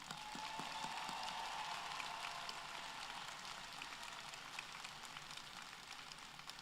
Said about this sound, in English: Everyone, let's give this new alumni a round of applause.